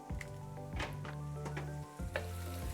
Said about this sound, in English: let's go ahead and give that all a nice little stir once again